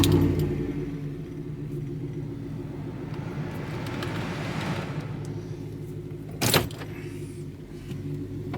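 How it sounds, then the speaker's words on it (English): A Chevrolet Silverado with a Black Widow Venom 300 fender-exit exhaust idles warm in a low, steady rumble. A single short mechanical clunk breaks in near the end. "the exhaust quiets down significantly once it warms up"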